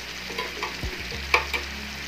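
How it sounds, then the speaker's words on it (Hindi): Chicken sizzles in a hot pan while being stirred, with short scraping strokes over a steady frying hiss, close and fairly quiet. "देखिए चिकन को हमने अच्छे से मिक्स कर लिया है"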